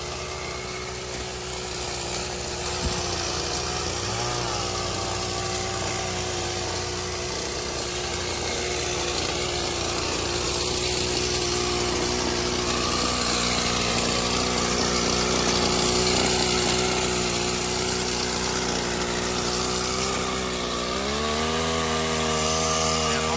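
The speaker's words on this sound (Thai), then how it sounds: "นี่เราก็ เอาเครื่องฉีดยา มาพ่น" A small engine on an engine-powered pesticide sprayer runs loudly and continuously close by, its pitch rising as it revs up near the end.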